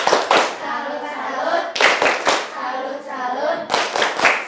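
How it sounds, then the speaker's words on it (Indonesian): Schoolchildren in a sixth-grade class perform a salute clap, short rhythmic sets of sharp claps repeated three times, with spoken and chanted voices between and over the bursts. "Luar biasa, tepuk salut."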